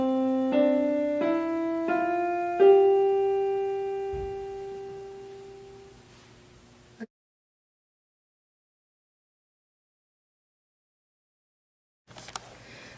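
Right hand plays a slow rising run of piano notes, C up through G, five distinct strikes about half a second apart, the last note ringing out and decaying before a long silence and a brief noise at the end.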